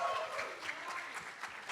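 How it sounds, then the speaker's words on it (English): An audience at a marketing institute welcome address cheers and applauds for a team, a faint, scattered clapping and crowd noise heard at a distance. "Can I have a cheer from Philippines team,"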